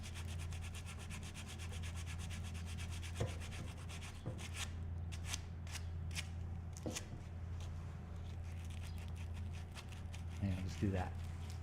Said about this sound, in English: I got a piece of sandpaper, and I gotta get all the way around that sandpaper